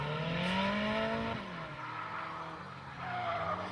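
Drift car tires skidding loudly as a red Nissan 240SX hatch spins out at a drifting event, a long continuous screech with engine tone sliding and wavering, close and prominent throughout.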